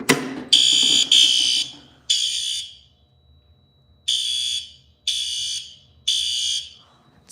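Fire alarm sounding after a pull station is activated, with a weak-powered panel: six close, shrill buzzing tones, each about a second long and separated by short silences, with an uneven rhythm.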